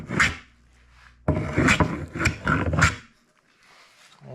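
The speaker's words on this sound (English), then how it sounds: "32-inch scrub joiner comes out" A 32-inch scrub jointer plane rasps across the wood of a round tabletop in a few long, rough strokes, close and loud, separated by short pauses.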